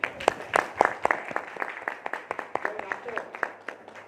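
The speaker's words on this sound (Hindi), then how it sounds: "इनके लिए एक जबरदस्त ताली।" Audience at a training seminar clapping in scattered, distinct claps rather than a dense roar, fairly quiet and irregular, with a few voices mixed in.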